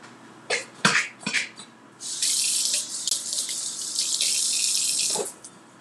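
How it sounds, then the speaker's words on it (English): Kitchen tap running into a sink while hands are washed, a steady close rush of water for about three seconds after a few knocks and a short cough. "I'm gonna wash my hands."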